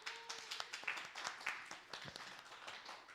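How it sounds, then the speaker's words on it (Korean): Applause from a youth group at a Sunday church worship service: brief, quiet scattered clapping that sounds somewhat distant, with a little voice mixed in. "박수 한번 줄까요?"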